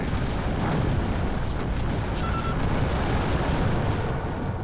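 An enemy Herc mech in Earthsiege 2 is blown apart in a heavy, rumbling explosion that roars for several seconds, loud and broad, with faint electronic chirps over it.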